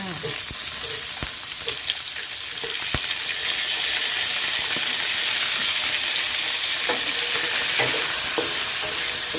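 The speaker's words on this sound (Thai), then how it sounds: "พอกระเทียมหอมแล้วเราก็ใส่หมูสับลงไปค่ะ" Minced pork frying with fragrant garlic in a hot pan, a steady loud sizzle with intermittent sharp clicks and scrapes of a utensil stirring, no talking.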